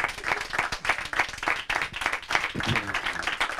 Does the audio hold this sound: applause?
yes